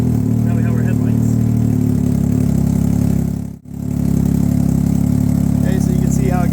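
A Can-Am Ryker motorcycle engine runs with a steady, loud low rumble that briefly cuts out midway and then resumes, while a person talks over it.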